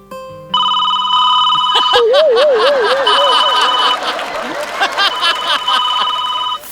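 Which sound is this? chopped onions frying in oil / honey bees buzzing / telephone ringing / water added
telephone ringing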